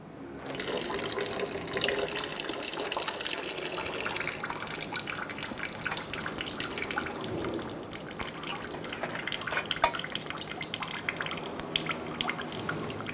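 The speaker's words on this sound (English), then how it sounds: "When you pull this, coolant might come out, depending on how well it was drained." Coolant from a Toyota Highlander after the lower radiator hose is removed pours and splashes steadily into a container close by for the whole stretch, a continuous liquid rush with small drip spatters.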